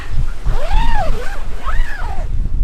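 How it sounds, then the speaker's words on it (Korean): Loud, constant wind rumbles and buffets the microphone throughout at a night-time autumn forest campsite, with a voice gliding up and down over it. "현재 바람이 불고 기온이 떨어지니까 체감 온도가 상당히 떨어졌어요"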